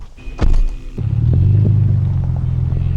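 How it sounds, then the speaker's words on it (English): A Toyota 4Runner rolls over dirt ruts with a loud low engine and road rumble, a thump and rattle early on before a steady drone with a faint whine. "Now we're driving over these ruts and you barely even feel them."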